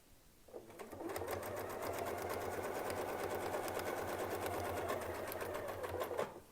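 A sewing machine stitches steadily with a Westalee Spin E Fex 14 series ruler guiding the quilting line, a fast continuous whirring hum that starts and stops cleanly, close and loud, with no talking.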